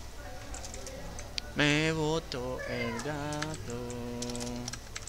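A cat meows two or three times in quick succession, the calls drawn out and fairly close, over a faint background of light clicking.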